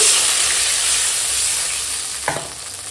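Water hits a hot pan of ground cumin, ginger and garlic paste with a loud, steady, close sizzle that eases slightly toward the end, broken by a brief clatter near the finish.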